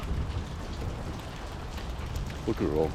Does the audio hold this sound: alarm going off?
no